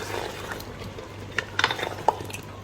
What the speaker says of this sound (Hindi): इसको मिक्स कर दें अच्छे से।